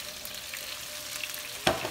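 Fresh spinach hits a hot pan with garlic, giving a faint, steady sizzle with light crackles and a sharper stirring scrape near the end.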